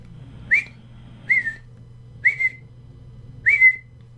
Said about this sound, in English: She really is snoring today.